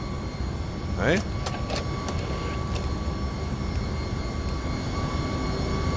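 Simulated MD-11 jet engines in X-Plane 11 hold a constant broadband roar with the aircraft doors open, steady throughout, while a single brief voice cuts in early.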